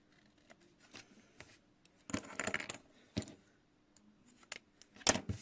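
Sharp scissors snip through material in scattered crisp cuts, a few louder clusters of quick snips among quieter handling noises, close and without talk.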